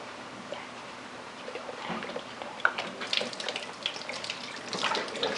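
Tap water runs into a sink while glass beer bottles are rinsed for home brewing, a close, continuous splashing and gurgling with light clinks that grows busier toward the end.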